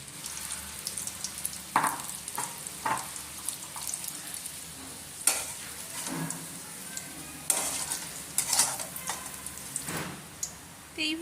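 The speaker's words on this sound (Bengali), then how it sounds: "তো এইভাবেই আমি সব ভেন্ডিগুলো ফ্রাই করে নেব।" Spiced okra frying in hot oil in a wok on a gas stove, a steady crackling sizzle with occasional louder spatters and stirring clinks throughout.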